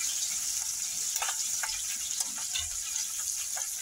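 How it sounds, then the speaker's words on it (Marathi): Finely chopped green chillies with curry leaves fry in a pan, a close steady sizzle with light stirring scrapes scattered through it. "चांगलं परतून घ्या त्याला मिरच्यांना।"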